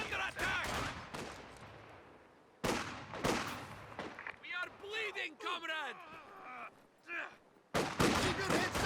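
Heavy mortar fire in the wartime strategy game Company of Heroes 2, loud booming launches and impacts mixed with rattling gunfire and battle noise during a 1v1 match, with a commentator talking over it.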